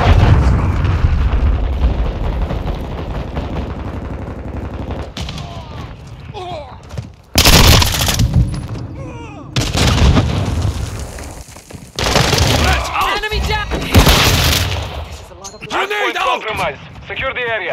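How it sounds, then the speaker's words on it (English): Cruise missile strike explosions in Call of Duty Modern Warfare 2 during a Hardpoint match on Shoot House: loud, heavy booming blasts and rumbling bursts that arrive in several waves, mixed with gunfire and voices. "Hostile cruise missile launch."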